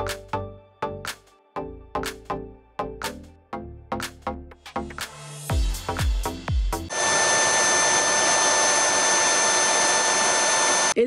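Beeping tone sequences from a wet-dry floor cleaner, then its motor kicks in with a steady loud whirring hum as it dries its brush.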